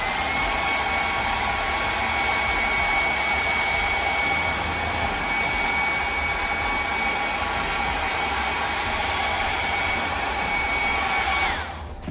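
A new hair dryer blows steadily and close up to dry paint on boots, a loud continuous whine and airy roar that holds at a constant pitch before dropping off near the end, with no speech.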